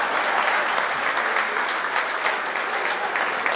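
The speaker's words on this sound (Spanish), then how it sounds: "aplauda con cariño, señora" Audience applause at a school centenary lunch and show, a dense, steady wash of clapping from a sizable crowd, loud and continuous throughout.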